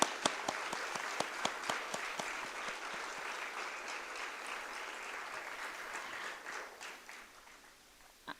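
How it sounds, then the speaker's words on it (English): Audience at a yoga day celebration applauding a swami after his keynote, fairly quiet clapping with distinct individual claps at the start that blur into steady applause and then gradually thin out. "Let's give a one big round of applause again."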